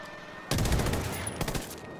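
A grenade blast in Ghost Recon Wildlands hits suddenly and loud, followed by a rumbling, crackling tail and a second sharp burst near the end, with no talking over it.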